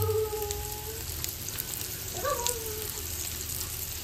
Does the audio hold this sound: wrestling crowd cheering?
no